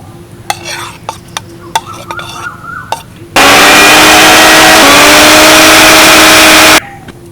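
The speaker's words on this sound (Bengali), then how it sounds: "এবার এই চিংড়িগুলোকে আমি পেস্ট করে নেবো তার জন্য একটা মিক্সি জার নিয়েছি" A mixer grinder jar whirs loudly for about three seconds while grinding prawns into paste, a steady high motor drone that cuts off abruptly, preceded by faint kitchen clatter.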